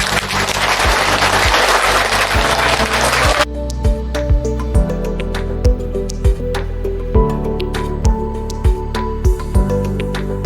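An audience at a village community meeting applauds in a dense, loud burst of clapping that stops abruptly after a few seconds, followed by rhythmic music beats.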